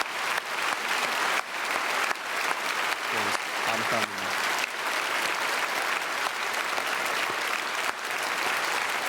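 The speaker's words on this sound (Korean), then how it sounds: "우리 축복의 박수 보내겠습니다" A church congregation claps warmly during a Sunday service, a sustained dense round of applause filling the hall. A voice speaks briefly over it.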